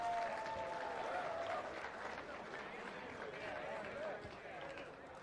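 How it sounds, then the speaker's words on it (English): A crowd at a boxing event applauds boxer Angelino Cordova in the ring, a faint, distant wash of clapping and crowd noise that slowly tapers off. "Let's give a round of applause to Angelino Cordova."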